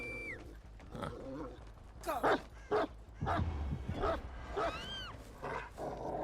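A killer's dog barks in the video game Dead by Daylight, several sharp yips and barks scattered among whistling and whooshing game effects, moderately loud and fairly near, with occasional voices in the mix.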